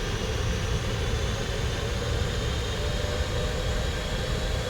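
Boeing 747-400 engines roar at full takeoff thrust in a flight simulator game, a dense, steady, loud rumble with an even hiss above it, unbroken and with no voices.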